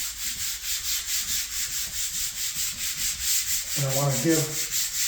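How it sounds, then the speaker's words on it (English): Light hand sanding of painted door trim, a steady rhythmic rubbing stroke repeating close by, with someone briefly speaking over it near the end. "I don't need to sand the paint off"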